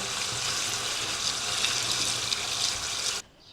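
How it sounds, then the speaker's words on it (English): Tap water runs in a steady close rush while radishes are rinsed under it, then it cuts off abruptly near the end, leaving quiet. "Just rinsing through the radishes because you don't want soil"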